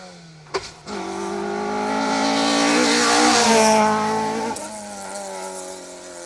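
A Mark II Category 6 rally car at speed on a Down Rally stage, its engine note rising loudly as it approaches and passes close by, with a brief sharp knock near the start before easing away.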